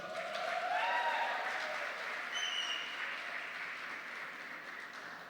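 Quiet audience applause at an education seminar on gender diversity, a soft wash of clapping from a modest crowd that peaks early and slowly fades, with faint whistling tones on top.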